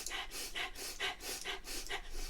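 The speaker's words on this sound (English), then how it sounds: "Puppy panting, breath of fire." Rapid rhythmic panting of breath-of-fire yoga breathing, roughly two to three sharp breathy exhalations per second, close and steady with no talking.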